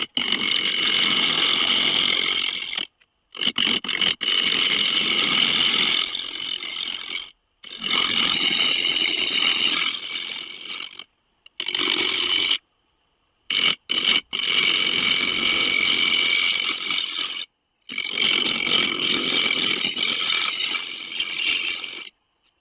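A wood lathe spins a spalted maple bowl at about 700 RPM while a gouge cuts in loud rattling, roaring bursts of several seconds each, broken by short silent pauses between passes.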